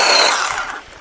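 A 20 volt cordless battery chainsaw with a 10-inch bar and 4.0Ah battery cutting through frozen oak, a loud close whine that fades as the cut ends.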